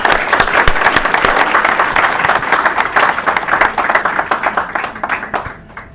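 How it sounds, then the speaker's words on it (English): An audience at a talk by Rabbi Paysach Krohn applauds police officers with loud, close, steady clapping that swells and then tapers off toward the end. "Let's give them a round of applause."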